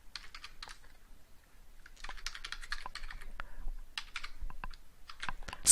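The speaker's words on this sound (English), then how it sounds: "So I'm going to just type another one in." Rapid typing on a computer keyboard while entering a password, close and crisp, with bursts of keystrokes separated by short pauses.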